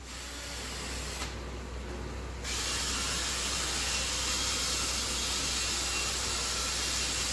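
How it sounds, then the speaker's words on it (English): A drill-driven scrub brush works over pre-sprayed carpeted stairs with a constant loud whirring hiss that drops briefly, then returns stronger and holds steady. "Already pre-sprayed, now detailing with the drill."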